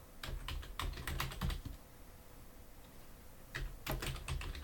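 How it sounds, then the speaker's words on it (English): Typing on a computer keyboard while entering a medical code search, two quick bursts of crisp clicking keystrokes separated by a short pause, close and fairly faint, with no talk. "We'll start by typing retinopathy"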